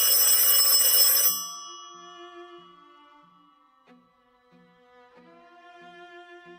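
An old telephone at a remote railroad stop in a snowy Alaskan setting rings loudly with a bright bell burst, then a lingering metallic decay with faint clicks and quieter tones fading out.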